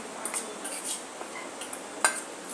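A spoon scrapes and clinks against a bowl while salt is stirred into gram flour, with light, irregular taps and scraping close by and fairly quiet.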